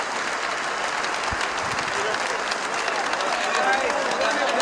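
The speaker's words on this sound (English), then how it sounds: "And he's getting the applause he deserves." Cricket crowd applauding batsman Aiden Markram as he walks off after 136, a steady, dense wash of clapping from a large stadium throughout, with a commentator's voice faintly underneath.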